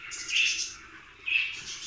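Caged canaries and goldfinches chirp in two short bursts of high, bright song, fairly close and clear, with a brief quieter gap between them.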